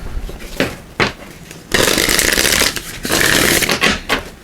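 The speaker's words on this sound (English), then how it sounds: "I'll just give these a shuffle too." Tarot cards riffled and shuffled by hand in two quick bursts of crisp, papery fluttering, each about a second long, after softer handling sounds.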